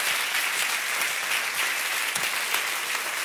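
A church congregation applauds steadily, a dense continuous patter of many hands filling the room at an even, strong level throughout.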